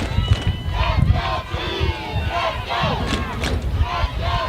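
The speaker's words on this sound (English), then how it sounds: "Let's go Chiefs is the chant" Youth football championship crowd in Miami at a 9U game, a loud dense roar of many voices with rhythmic group chanting rising and falling steadily throughout, close and continuous.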